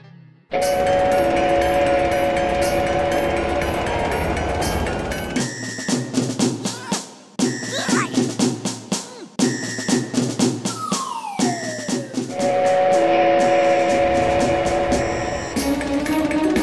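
Cartoon train sounds with a steam whistle, a loud sustained tonal blast over chugging rail noise, broken up by shorter whistle bursts and effects in the middle before the full whistle returns.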